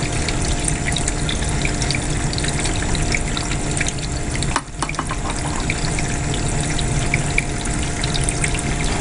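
Miller table gold mining sluice running fast with water, a constant rushing, gurgling flow with a brief dip partway through, close and steady with no talking.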